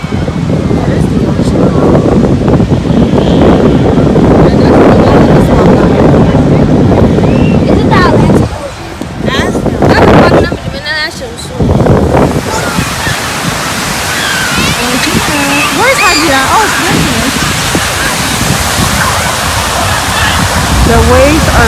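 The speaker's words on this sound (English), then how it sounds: "The waves are so strong." Strong ocean waves at a beach roar and wash continuously, loud and close, with heavy wind buffeting the microphone and people talking over the surf.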